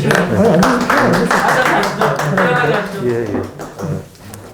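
An audience at the launch ceremony of a Jogye Order election fraud reporting center applauds, a brief patter of clapping mixed with voices talking over it.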